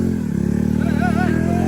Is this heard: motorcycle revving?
yes